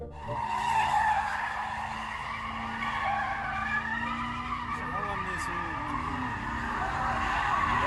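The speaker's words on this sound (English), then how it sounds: "A truck doing donuts smashes into a lamppost." Tires skid and squeal continuously as a truck spins donuts on pavement, loud and sustained with engine noise, partly under a voice.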